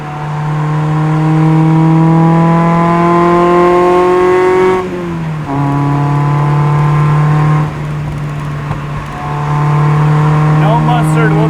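A Mazda Miata pulls hard in a straight line on a backroad, its loud engine note climbing steadily through gears with brief drops at each shift, heard from inside the car.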